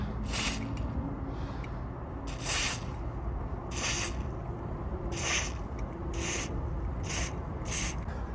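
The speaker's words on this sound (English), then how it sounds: "I'm hoping with this straw, this penetrant's going to go as far as it can" Penetrant sprayed through a straw onto a stuck axle on a 2016 Nissan X-Trail, in about seven short hissing bursts spaced a second or so apart, close and moderately loud over a low background hum.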